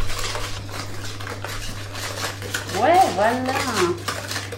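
A whisk clatters steadily against a bowl while mixing Nutella cookie dough, with a brief exchange of voices in the middle.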